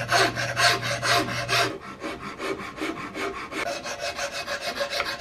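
Wood is filed by hand around the mortise of a CVA Hawken muzzleloader rifle stock, giving rhythmic rasping strokes, about fifteen back-and-forth passes, close and moderately loud, with no talk.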